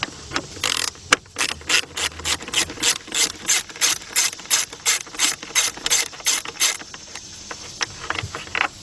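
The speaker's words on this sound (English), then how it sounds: "we're gonna get us a 10mm socket, 3/8 drive shallow with my 3/8 drive ratchet" A 3/8-drive ratchet with a shallow 10mm socket turning bolts while a 2006-2010 Chrysler PT Cruiser radiator fan is removed, giving a loud, close, rapid series of clicking ratchet strokes in a steady rhythm, with a few pauses near the end.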